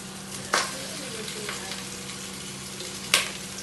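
Pre-boiled pork for adobo hits a hot pan, frying with a steady close sizzle and two sharp bursts as pieces drop in, with light stirring between them.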